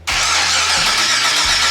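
Twin turbo Ford Mustang with tear drop exhaust out of the bumper starting up: a short crank catches almost at once into a loud, steady close-up engine roar that holds without dropping.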